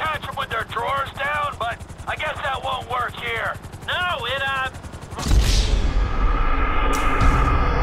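A helicopter in GTA V throbs loudly with a steady rotor chop, joined by a burst of loud gunfire or an explosion near the end. Someone talks over the first part.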